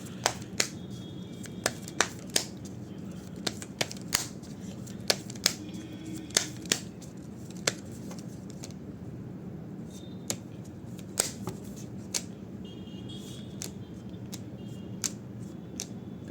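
Tarot cards are shuffled and drawn from a deck close by, producing repeated sharp snaps and flicks of card stock over a quiet background, irregular in rhythm.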